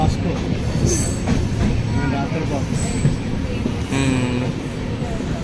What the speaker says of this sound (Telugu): ట్రైన్ చాలా స్పీడ్గా అయితే వెళ్తుంది.